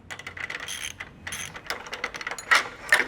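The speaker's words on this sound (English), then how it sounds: "take the 7/16 wrench or ratchets or whichever combination you choose, and you're simply going to break loose and remove the feet from the ladder" Ratchet wrench clicking as the feet are loosened and removed from a Werner ladder, a close run of quick mechanical ratchet clicks with a few sharper metallic ticks near the end.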